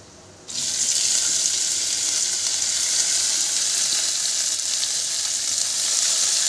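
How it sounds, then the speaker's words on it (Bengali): Moong dal tossed into a hot pan for frying, for kachori filling, bursts into a loud, steady hiss a half-second in and keeps sizzling evenly and close up to the end. "মুগের ডালটা দিয়ে ভালো করে একটু ভেজে দেবো।"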